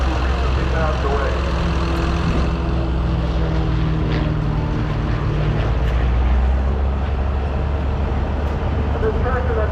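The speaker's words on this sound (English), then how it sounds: "This tractor that's coming through with the military stuff is actually a tractor that was built by Massey Harris." A Massey Harris military tractor drives past in a threshing-show parade, its engine producing a steady, low, droning rumble throughout, with a voice speaking over it.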